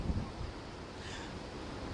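Strong wind gusts over the rough coastline at Mangaluru, a continuous broadband roar buffeting the microphone with no voices, steady and fairly loud throughout.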